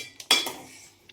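Rice and soybeans for a veg biryani are stirred in a cooking pot, giving a brief scrape and a few metallic clinks of a utensil against the pot, close and fairly quiet, with no talk.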